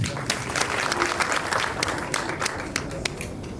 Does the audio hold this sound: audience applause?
yes